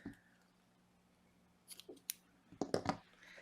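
Scissors snip a yarn tail on a crocheted checkerboard bag, a few quiet close cuts followed by a short burst of louder snipping and rustling near the end.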